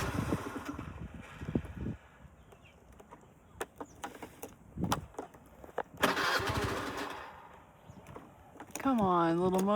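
A small motorbike engine sputters and struggles to start on a road in Ninh Binh, Vietnam, with repeated cranking bursts and rough coughing revs rising to a strained whine at the end, while people talk nearby.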